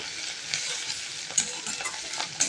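Chopped spices with crushed ginger and green chilli fry in a pan for lentil curry, a steady close sizzle broken by scraping stirs and a few sharp pops, with no voices.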